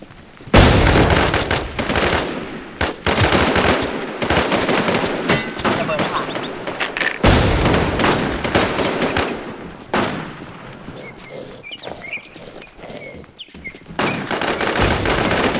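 Bursts of gunfire in the video game Infestation, loud and dense, with rapid automatic volleys and single shots over several seconds, while voices talk excitedly over the shooting.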